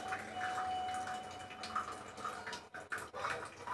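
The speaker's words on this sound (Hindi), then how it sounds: "थोड़ा थोड़ा देखिए बूंद बूंद पानी आ रहा है," Water trickles and drips from a kitchen tap into a sink as rice is set to soak, a soft, near, uneven patter over low background noise.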